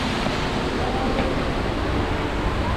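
Steady, loud rush of the Düden waterfall near a cave path in Antalya, a dense broadband roar that continues without a break.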